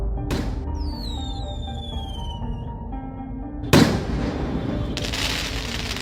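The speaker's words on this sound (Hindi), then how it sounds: "फिर ये लोग पटाखा फोड़ने लगते हैं" Two sharp bursts of firecracker popping crackle, one early and a louder one midway, with whistling tones and a hissing fizz in a cartoonish effect.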